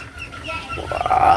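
A pet duck quacks briefly nearby, a short nasal call rising toward the end of the moment.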